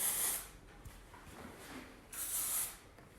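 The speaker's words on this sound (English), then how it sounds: "This is a dry texture finishing spray." Redken Triple Dry 15 dry texture finishing spray released from an aerosol can onto hair in two short hissing bursts, quiet and close, separated by a soft pause.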